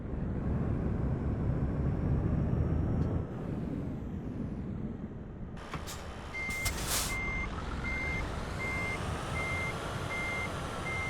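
A truck with a trailer backs up in Euro Truck Simulator 2 with the ProMods map mod, its steady reversing alarm beeping evenly in a regular series over constant engine rumble in the second half.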